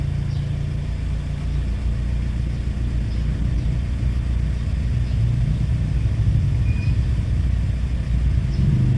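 Suzuki APV engine idling with the air conditioning switched on, a steady low rumble and hum heard from inside the vehicle, continuous and even throughout with no voices.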